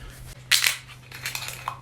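A bottle of sweet wine is cracked open, giving one loud crackling snap of the seal or cap followed by softer rustling and a small clink, close up, with a low steady hum behind it.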